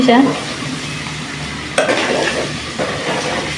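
Mustard seeds and whole spices hit hot oil with a loud, close sizzle and crackle, a sharp burst near the start and another surge partway through, with a utensil scraping and stirring in the pan.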